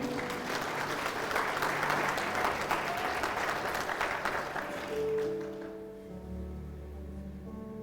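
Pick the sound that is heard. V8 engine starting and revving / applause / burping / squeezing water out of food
applause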